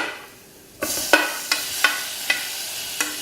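Tomatoes added to a hot pan for Uppuma, a sudden loud sizzle followed by a steady frying hiss broken by about five sharp spoon clinks against the pan.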